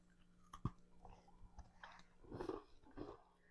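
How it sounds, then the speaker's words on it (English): Crunchy bites and chewing of a frozen grain-free sugar cookie, a sharp close bite followed by faint crackly chewing, quiet and close to the mic. "could you hear that crunch?"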